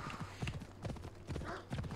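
Horse hooves clip-clop at a steady walking rhythm in the video game Assassin's Creed Odyssey, fairly quiet and close, with a faint snort or whinny in the mix.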